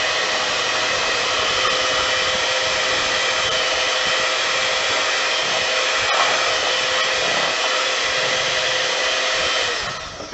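An electric mixer beats instant pudding with cold milk and cream cheese for carrot cake icing, giving a loud, steady motor whir that runs unbroken and then cuts out at the end.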